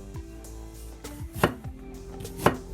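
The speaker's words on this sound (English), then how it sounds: "So we cut it to the thin slices" Two sharp knife strikes on a cutting board, about a second apart, as thin slices of ginger are cut for braised luzhu pork ribs; close, crisp and distinct, with no talking.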